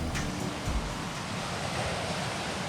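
Ocean waves break along the seashore near Tramandaí in southern Brazil, a steady, full roar of surf that washes on continuously with no voices and no pauses.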